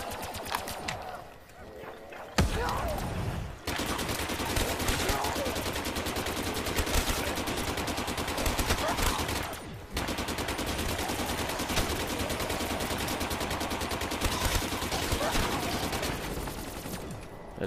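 Sustained automatic gunfire in Call of Duty Black Ops 3 Zombies, dense rapid shots running almost continuously with brief breaks, loud and close, with a voice speaking underneath.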